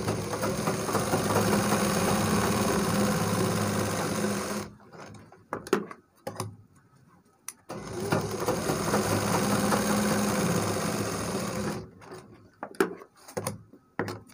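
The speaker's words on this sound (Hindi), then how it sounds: "और सिलाई लगा देना है।" Sewing machine stitching the side pocket of a kurta, running in two long steady bursts of close, continuous mechanical whirring separated by a few seconds of near silence with light handling noises.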